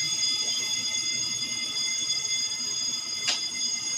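A fire alarm rings in a continuous, steady electronic tone that holds for the whole stretch, fairly loud and close, with faint background noise and no talking.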